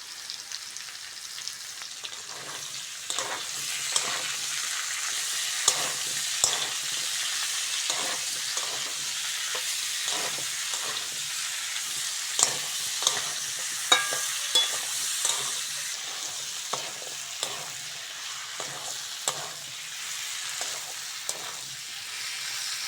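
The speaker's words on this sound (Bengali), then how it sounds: "তো আমার পেঁয়াজটা ভালো করে ভেজে নিয়েছি" Onion and tomato fry in a pan with potato and Malabar spinach for a village-style soybean dish, a steady close sizzle broken by regular scraping stirs of a spatula, with no voices.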